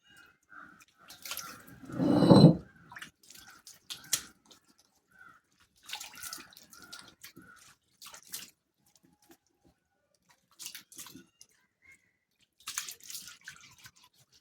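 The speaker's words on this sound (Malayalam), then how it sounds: "കല്ലൊക്കെ നന്നായിട്ട് കഴുകണം നന്നായിട്ട് കഴുകിയിട്ടേക്കുന്നതാണ്" Water splashes and drips as a stone is washed by hand, with one louder pouring splash early on followed by scattered, close drips and sloshes separated by quiet gaps.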